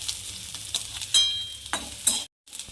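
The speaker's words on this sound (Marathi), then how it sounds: "छान भाजू द्यायचं कांद्याला" Chopped onion dry-roasting in a pan for a village-style ridge gourd curry masala gives a steady close sizzle broken by a few louder stirring scrapes, then a sudden brief silence before the sizzle resumes.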